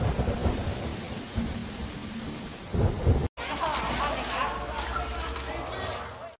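Thunder rumbles with steady rain during a storm in the rainy season, loud and close, continuing throughout with a brief cut to silence midway before the downpour resumes.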